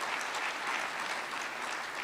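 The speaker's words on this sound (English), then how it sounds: "give them a round of applause again" Steady, moderately distant applause from a conference audience at an investment conference closing ceremony, an even wash of clapping with no voices standing out.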